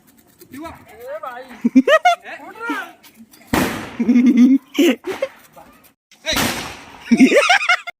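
Firecrackers going off at a Diwali celebration in Jajpur, with two loud, sharp bursts spaced a few seconds apart, close by, amid excited talking and shouting voices.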